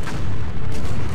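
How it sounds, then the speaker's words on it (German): Cannon fire in the Empire Earth strategy game: dense, loud booming blasts overlapping in quick succession like a battlefield barrage, heard close with no talk. "Aber wir haben bessere Technologie, Leute. Wir haben Kanonen."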